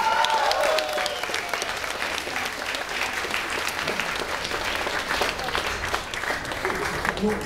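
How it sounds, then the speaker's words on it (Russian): A concert audience at the B2 club breaks into loud, dense applause that fills the room and holds steady for several seconds, with a voice heard briefly over it. "Аплодисменты!"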